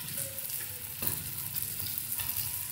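Masala for coriander kuzhambu fries in oil with a quiet, steady sizzle and a few soft stirring scrapes, heard close but at low level with no talking.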